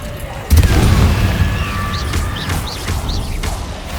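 A Confringo spell blast in Hogwarts Legacy hits with a loud, sudden boom and leaves a rumbling tail, while fainter crackles and chirps continue behind it.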